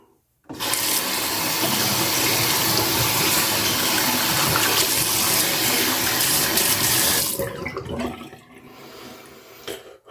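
Tap water runs steadily at close range into a sink to wet the face, starting abruptly, flowing loudly for about seven seconds, then cutting off and trailing away.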